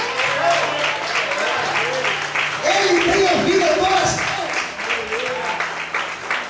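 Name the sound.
church congregation applauding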